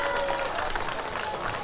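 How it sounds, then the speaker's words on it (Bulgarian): A crowd applauds steadily throughout at a village fair in Lilkovo, Bulgaria, a dense wash of clapping with some voices mixed in. "Силни аплодисменти за Карамфила!"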